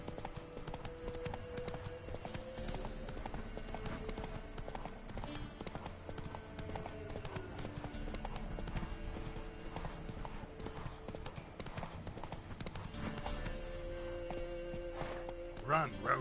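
Roach, the horse in The Witcher 3, gallops with a fast steady clip-clop of hooves running under game music and combat noise, with a voice calling out now and then.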